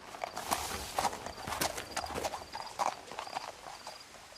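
Hooves clip-clop in a steady walking rhythm with an occasional soft snort from a horse in the game What Remains of Edith Finch, moderately close and fairly quiet with no talk over it.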